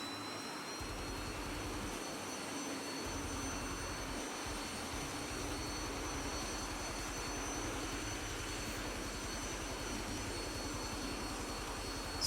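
A SAAB AJS 37 Viggen jet roars steadily through a short landing in the DCS flight simulator. The engine drone is constant and even, with a low rumble beneath, and no one speaks.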